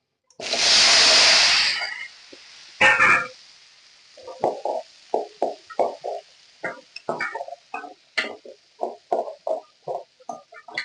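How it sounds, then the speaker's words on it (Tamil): Onions and chillies tipped into a hot pan of oil that has just begun to brown, giving a loud burst of sizzling that fades, followed by a steady run of spatula scrapes and taps against the pan. "அப்படியே வெங்காயமும் மிளகாவும் அப்படியே கொட்டிக்கலாம்."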